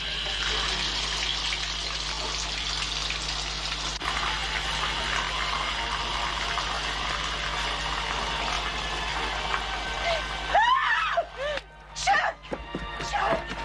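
Steady running water rinsing a bathtub in a home, a continuous close wash of flow that holds for several seconds before breaking into scattered splashes and handling noises near the end.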